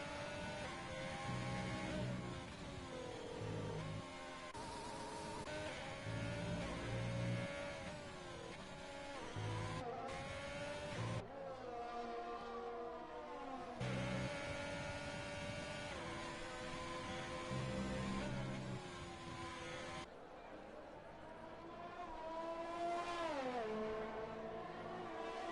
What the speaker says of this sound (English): You can just like hear the revving engine of the Mercedes.